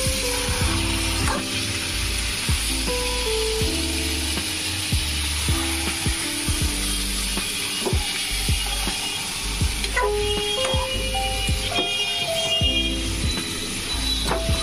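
Chicken pieces sizzling in hot oil with whole spices, a continuous close frying hiss dotted with sharp clicks and spatters over a low rumble, with no voices.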